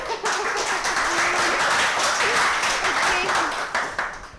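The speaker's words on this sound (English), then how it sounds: "Thank you, round of applause." Meetup audience applauding a speaker introduced at a Golang Sydney gathering, a steady dense wash of many hands clapping for about four seconds with some voices mixed in.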